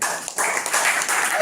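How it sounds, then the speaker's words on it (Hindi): A church congregation claps together in a steady, dense wash of many hands, loud and close, with brief dips as the clapping swells and eases. "ताली बजा पहुंचे।"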